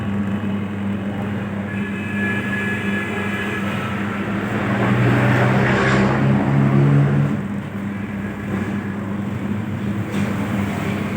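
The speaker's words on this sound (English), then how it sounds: "knead dough in 3 to 5 minutes" Abdullah Aata Maker AE-390 3.5 kg dough kneader with a steel bowl running, a continuous close motor hum and rumble with a slight surge in the middle.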